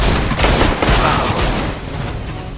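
Machine gun fire in the CS:GO game, a dense, loud, continuous rattle of shots that holds steady throughout with no talk.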